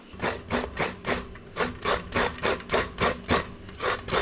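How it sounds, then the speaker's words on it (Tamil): Coconut halves are grated on a traditional coconut scraper, giving a close, steady rhythm of about fifteen rasping scrapes, each a short gritty stroke at an even pace with no talking. "இப்போ நாலு முடி தேங்காய் எடுத்து வச்சிருக்கிறேன் இப்போ இதை திருவி எடுத்துக்கலாம்"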